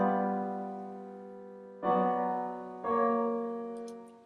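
Sustained piano chords: a German augmented sixth chord rings long and fades, then two more chords are struck in turn, resolving and decaying softly.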